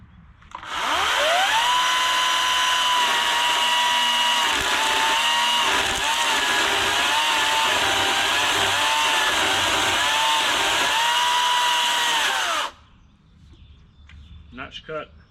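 Greenworks battery-powered chainsaw cutting, a loud close steady electric whine held for about twelve seconds with slight pitch dips as the chain bites, then cutting off abruptly to quiet with a few small knocks.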